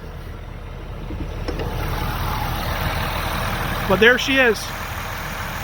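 A vehicle engine idles at raised RPM in the cold, about 27 degrees Fahrenheit in Michigan, as a steady low rumble throughout, with a brief spoken phrase near the end.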